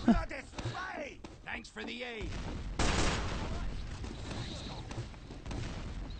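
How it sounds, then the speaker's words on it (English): Grenades and rockets burst in a Team Fortress 2 match on cp_snakewater, with a steady barrage of gunfire and explosions. A heavier blast lands midway, and a commentator speaks throughout. "the spam is just so constant by Epsilon Esports with the grenades and the rockets coming through"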